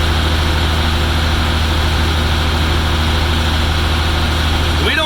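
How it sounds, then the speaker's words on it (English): A stopped tractor drives a Vermeer bale wrapper through its running PTO, making a loud, steady low engine drone with a mechanical whir that holds without letup close by. "We just stop the tractor, keep the PTO running."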